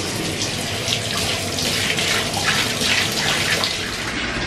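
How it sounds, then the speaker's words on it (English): Bathtub filling from the tap, a steady, close rush of running water pouring into the tub that continues without a break. "while my bath is running"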